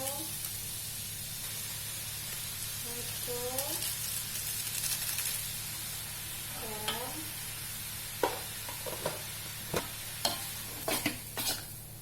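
Rice vermicelli being stir-fried in a pan, with a steady low sizzle under faint voices and a series of sharp spatula scrapes and clacks toward the end.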